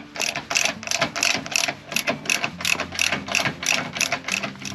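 A socket ratchet clicks in quick, regular bursts to remove the top bolt from the front windshield frame of a 2022 Kawasaki KRX 1000 UTV, close and loud with no talking.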